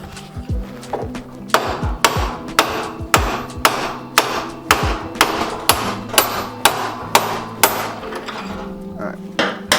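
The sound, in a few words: punch and mallet hammering out a bike axle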